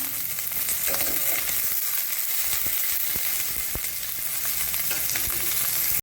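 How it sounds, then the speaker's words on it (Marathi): Onions fry in a pan for an egg dish, a loud, steady, close sizzle with scattered clicks and scrapes of stirring, with no speech. "आपला कांदा आता भाजत आलेला आहे"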